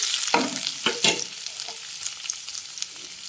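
Green chili-ginger paste and curry leaves sautéing in hot oil for a dry potato dish, a steady close sizzle with a few louder scraping stirs near the start, no voices.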